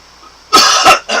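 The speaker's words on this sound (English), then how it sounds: "I had a cough." A person coughing up close, a loud wet cough in two quick bursts followed by a third shorter one after a brief pause.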